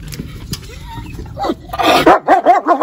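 Dogs bark repeatedly in quick, loud bursts near the listener, with softer yips and household noise beforehand.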